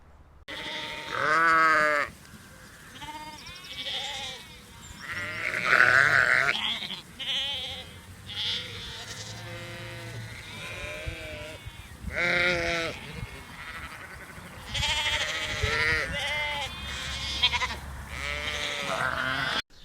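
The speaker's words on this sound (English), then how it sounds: "Here we have our pens set up and the sheep in it" Several sheep bleat repeatedly, some close and loud, others farther off, with overlapping calls and low rumbling in the background.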